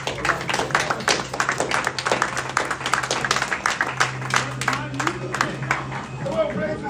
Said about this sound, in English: Please join me in giving him a round of applause.